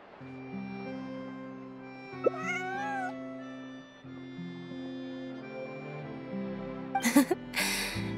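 A cat in Genshin Impact gives a single clear meow over steady background music, and a couple of short breathy sounds follow near the end.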